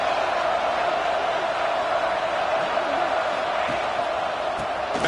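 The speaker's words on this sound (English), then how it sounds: "this crowd is fired up. Listen to this noise here." A football stadium crowd roars in a dense, steady wash of distant cheering that holds without a break throughout.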